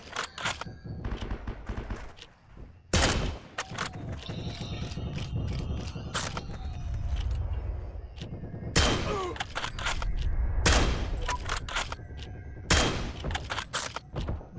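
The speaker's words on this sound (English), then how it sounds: "I'm getting shot at again." Gunfire in the online World War II shooter Heroes & Generals: bursts of automatic fire and single sharp shots ring out repeatedly at varying distances over a steady battlefield rumble, with mechanical weapon clicks between volleys.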